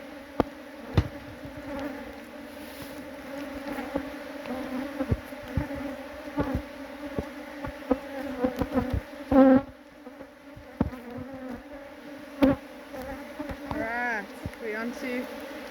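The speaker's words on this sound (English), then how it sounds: "there's bound to be a little bit more talking by the bees when you start getting going" A dense, steady hum of many honeybees buzzing in an open hive close by, with occasional knocks and frame-handling clatter over the drone.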